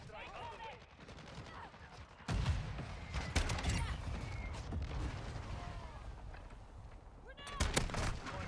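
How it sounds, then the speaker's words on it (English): Mortar strike explosions and gunfire in the video game Call of Duty: Modern Warfare II, a dense, loud stream of shots and booming blasts with a heavy impact midway and another burst near the end. "Got another mortar strike."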